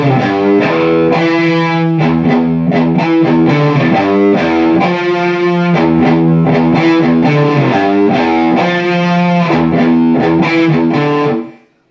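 Distorted electric guitar plays the outro lick from a song, a loud, busy run of chugging notes and riffs that stops abruptly near the end, with no voices.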